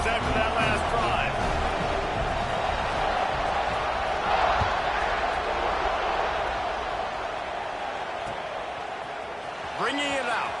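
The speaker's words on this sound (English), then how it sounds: "this crowd is feeling themselves after that last drive" A stadium crowd at a football game roars steadily through a kickoff return, a dense, loud wash of cheering that carries on without a break under a commentator's voice.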